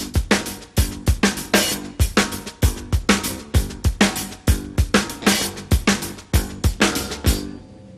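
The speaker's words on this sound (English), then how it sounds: "what if I change this and maybe accent with the snare and open the hi-hat there?" A drummer plays a drum kit groove with snare accents and an open hi-hat: steady, loud, closely miked hits repeating in a driving rhythm for several bars, with no talking.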